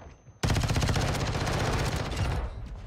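A shotgun fires in Call of Duty MW2, a loud burst that cuts in abruptly and holds as a dense, rapid string of shots, close and harsh, before easing slightly near the end.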